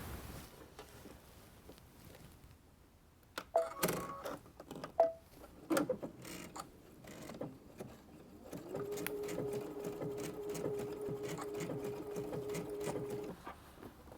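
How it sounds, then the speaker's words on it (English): A Brother sewing machine fitted with a MuVit walking foot stitches blanket stitches in a quiet room, starting with scattered clicks and short bursts, then settling into a steady, even mechanical whir for several seconds. "You can do blanket stitches, which are really nice to do for applique stitches."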